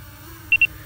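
Two short, high electronic beeps from the bottom sensor of an Autel Evo Nano Plus drone in quick succession, faint against a low background hum.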